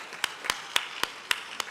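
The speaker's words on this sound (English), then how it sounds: "It's a good place to clap." Sparse, evenly spaced claps ring out at a summit gathering, six sharp single hand claps about a quarter second apart, crisp and isolated rather than a full round of applause.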